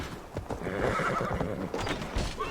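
A horse whinnies loudly over the clatter of hooves in Assassin's Creed Valhalla, its neigh rising and wavering before the hoofbeats fade.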